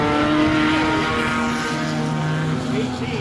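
Late model race cars battling through turns 3 and 4, a loud, continuous roar of several engines with shifting pitch as they pass close by.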